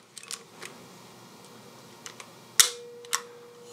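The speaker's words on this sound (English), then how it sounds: "than the sound on that leaf shutter lens" A Mamiya C220 leaf shutter trips with one quiet, crisp click, surrounded by a few soft handling clicks close up in a quiet room, with no speech.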